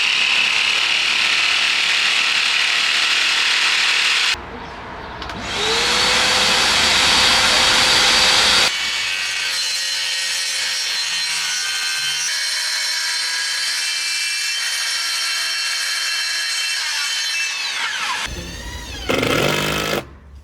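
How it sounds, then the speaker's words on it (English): A jigsaw cutting cladding, a loud, close, continuous buzzing saw whine that runs steadily, drops out briefly, restarts and carries on for most of the stretch before a short final burst. "now I get to get out my other skilly and jigsaw and finish that cladding"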